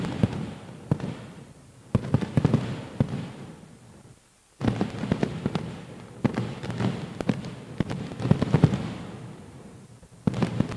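Fireworks burst at an athletics stadium after a relay race, a dense run of crackling pops and booms with a brief lull midway, loud and continuous.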